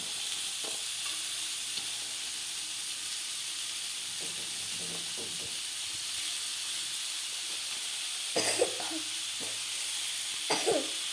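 Beans, chopped cauliflower and other vegetables fry in a wok for chowmein with a soft, continuous sizzle, broken near the end by two short bursts of stirring scrapes; no one speaks.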